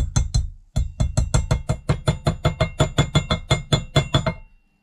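Light metal taps on a front wheel bearing of a Piaggio MP3 500 scooter, a steady run of about twenty close, sharp knocks with a brief pause after the first few.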